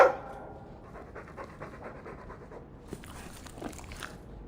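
A Mabari war dog in Dragon Age II pants in quick, soft, rhythmic breaths, close by and fairly quiet against a faint background, with no speech over it.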